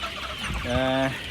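A chicken clucks once or twice up close, a short throaty call rising out of the background farmyard noise.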